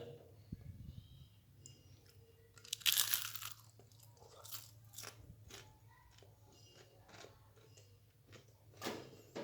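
Flour-battered fried tempeh crunched between the teeth up close, a loud crackling bite followed by a run of smaller crisp chewing crunches, with faint background hum.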